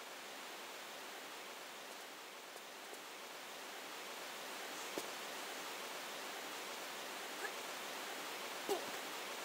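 A canyon waterfall in the video game Tomb Raider 3, in a Nevada desert level, gives a steady broadband rushing roar that stays even throughout, heard alone with only faint clicks now and then.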